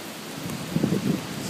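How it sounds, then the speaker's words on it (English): Heavy rain from Hurricane Sandy in Portland, Maine, pours in a constant broad wash, with low rumbling gusts swelling midway through. No one talks. "The rain started up. It's coming down pretty good."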